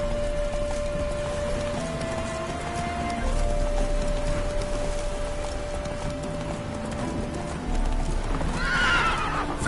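Roach, Geralt's horse in The Witcher 3, gallops with steady, loud clip-clop hoofbeats over a faint rain background, and a whinny rises near the end of the run.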